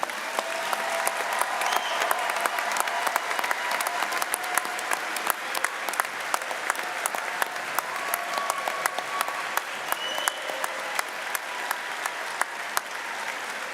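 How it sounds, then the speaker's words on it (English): Commencement audience applauding graduates at a spring university ceremony, a dense, sustained roar of many hands clapping with sharp individual claps and a few cheers over nearly fourteen seconds. "How about another round of applause for our graduates?"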